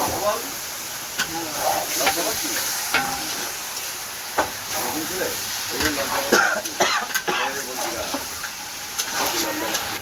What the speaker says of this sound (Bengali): আরও কষিয়ে যেইভাবে রান্না হয় সেইভাবেই হবে।